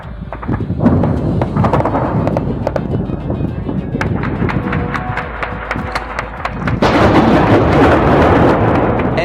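Air defense batteries firing into the sky during a strike on a Russian air defense missile regiment site, heard as dense rolling booms and cracking blasts that continue without pause, swelling louder near the end.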